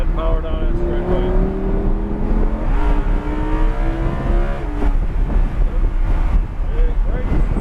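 A Lamborghini accelerates down the straightaway at Texas Motor Speedway, with a loud, steady engine drone rising in pitch through the gears and heavy wind rush, heard from inside the car while an instructor talks.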